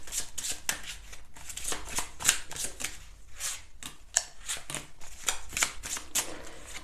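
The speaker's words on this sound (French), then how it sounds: "Je tire 3 cartes." A deck of tarot cards is shuffled close by, giving rapid papery riffles and soft slaps in quick bursts with brief pauses between them.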